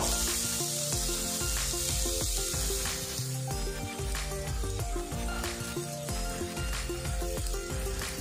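Chopped vegetables sizzling in a pan with fried ginger while cooking a semolina snack, a dense, continuous close-up crackle with faint stirring knocks throughout.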